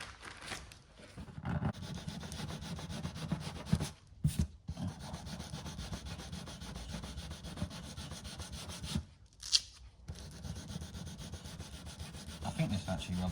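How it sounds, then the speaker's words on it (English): Hand sanding of body filler on an aluminium car body panel with 320 grit paper on a block: a steady, close rasping rub in long continuous strokes, broken by a couple of brief pauses. "I think this actually rubs down nicer than normal filler."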